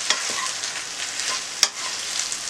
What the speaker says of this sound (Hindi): हमें इसे तकरीबन 3 से 4 मिनट फ्राई करना है